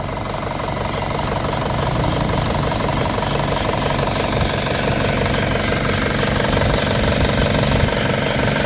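A loud Isuzu D-Max four-door pickup truck engine runs steadily, rattling and knocking at idle with a dense mechanical vibration and no other sounds.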